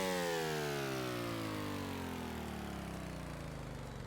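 An engine that starts on its own and over-revs because of an overly aggressive PID controller, a steady mid-pitched drone with harmonics slowly sliding down in pitch throughout.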